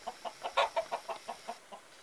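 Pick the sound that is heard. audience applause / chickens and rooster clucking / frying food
chickens and rooster clucking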